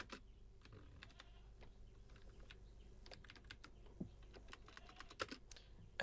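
Keys clatter on a computer keyboard in short, irregular bursts of quiet clicks, close by and soft, with no voices over the typing.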